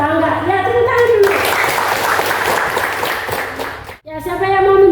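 Children in a classroom clap together in a brief dense burst, framed by an adult's speech before and after.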